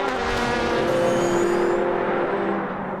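A prototype race car's engine drones loudly and steadily at Silverstone during the 2016 6 Hours endurance race, holding a sustained high-revving tone that fades slightly toward the end.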